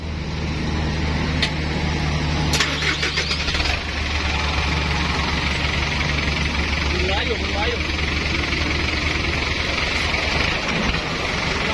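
A six-wheel truck's diesel engine running loud and steady after being started during a roadside repair, a continuous rough rumble with a few sharp metallic clicks early on.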